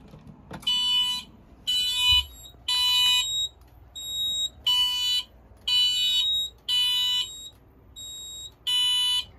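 A Wheelock MT smoke alarm sounds a Code 3 tone repeatedly on battery backup, in loud, regular beeping bursts, each a shrill electronic tone separated by short pauses.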